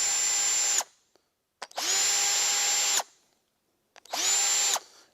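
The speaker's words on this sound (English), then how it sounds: "So we have just a simple screw gun here" Screw gun with a number 2 Phillips bit running in reverse, three loud whirring bursts with a steady high motor whine, each starting and stopping sharply, separated by short silences.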